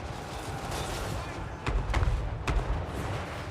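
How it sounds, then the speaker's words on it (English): Great cannon artillery firing in a fantasy battle video game, heard as several sharp booming shots with thuds at a moderate distance over a steady background rumble. "Great cannon."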